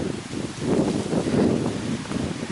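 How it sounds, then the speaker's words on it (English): Wind buffets a nearby microphone in soft gusting swells on a mountaintop at Clingmans Dome, a low rumbling rush that rises and falls, with no voices. "it is windy up here, as it always is"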